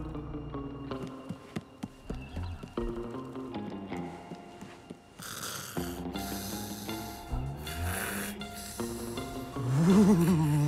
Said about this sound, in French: l'autre andouille qui ronfle comme un sac